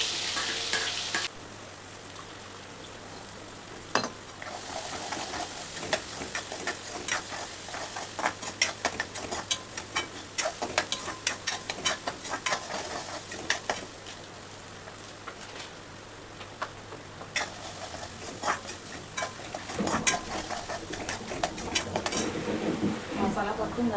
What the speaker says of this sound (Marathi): आपलं तेल तापलं आहे। त्या तेलामध्ये आपल्याला सारणाचा उरलेला मसाला आहे तो टाकायचा।